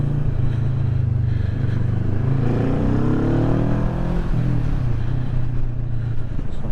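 A Kawasaki Vulcan 650 S motorcycle on a country road drops a gear, its engine note rising in a loud, close rev that swells and then settles back to a steady drone.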